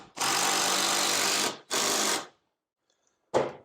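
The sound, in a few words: cordless power drill driving a screw into acoustic panel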